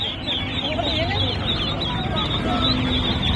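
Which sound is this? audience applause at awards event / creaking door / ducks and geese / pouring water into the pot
ducks and geese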